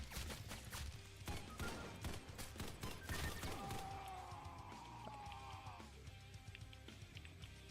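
Rapid gunfire from a gun in a video game rattles in dense, repeated bursts of sharp cracks over a steady background, with a sustained whining tone partway through and a low, distant mix overall.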